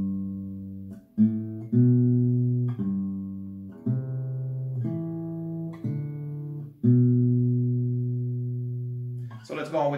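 Slow acoustic guitar picking of a song intro, single plucked notes and ringing bass tones sounding one after another and decaying between plucks, close and clear, with a brief voice at the very end.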